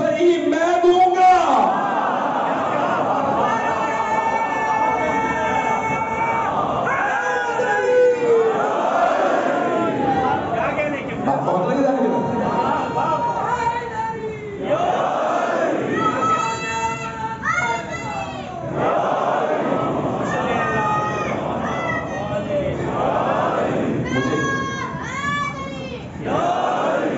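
Crowd at a majlis in Karbala Peer Haider Safdar, Taxila, loudly chanting slogans in bursts of massed voices, with a speaker's voice amid the chants.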